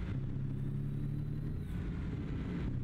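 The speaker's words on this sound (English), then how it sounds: "Ooh, the rumble of the truck sounds so good." Truck engine in American Truck Simulator gives a steady low rumble, loud and continuous throughout, with no talk.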